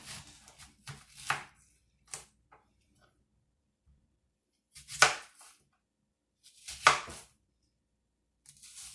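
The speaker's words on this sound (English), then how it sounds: "We need to cut 2 large onions about into 1/2 inch wedges." Knife chopping two large onions into half-inch wedges on a board, a few separate bursts of cutting strokes with quiet pauses between, close and fairly soft.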